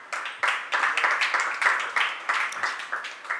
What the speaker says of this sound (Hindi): बहुत अच्छे, ताली बजा दी,